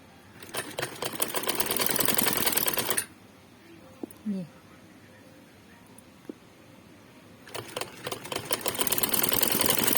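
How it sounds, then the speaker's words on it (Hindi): A sewing machine stitches a child's frock in rapid, loud mechanical bursts, running steadily for about three seconds, pausing through a quiet stretch with a few soft handling noises, then starting up again. "इसी तरह दूसरी तरफ से भी हम सिलाई कर लेंगे"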